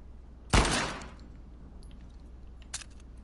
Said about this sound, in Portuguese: Dar um tiro aqui